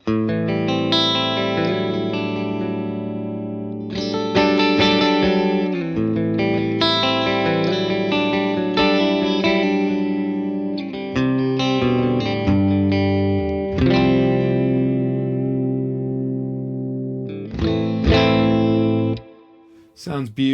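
Electric guitar through a Victory VC35 The Copper amplifier with a reverb wash, chords and melodic notes ringing and trailing off into a spacious tail, played alone and fairly loud.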